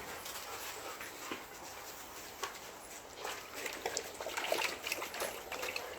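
A female Doberman laps at water with soft, rapid wet splashes and trickles, fairly close and continuous, growing a little louder toward the end.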